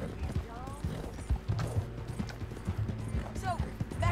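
Horse hooves clip-clop at a steady walking pace in Red Dead Redemption 2, with a bound rider being taken to a hanging in Saint Denis. Busy game ambience and a voice sit around the hooves, and faint whinnies rise at times.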